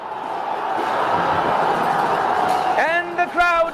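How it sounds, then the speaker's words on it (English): A stadium crowd roars after a goal at a Nepal Super League football match involving Lalitpur City FC, a steady loud swell of cheering, with a commentator's voice rising over it near the end. "And the crowd erupts."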